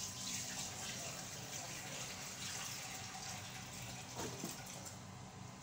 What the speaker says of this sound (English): So the next thing I'll add is the potash water.